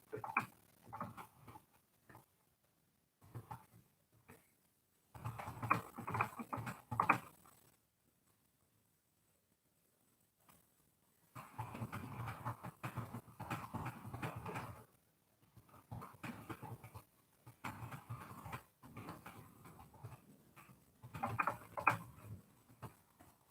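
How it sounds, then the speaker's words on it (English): Bursts of quick, light clicking come in irregular runs separated by pauses, like fingers tapping keys, close by and fairly quiet. "I'm just typing a response here"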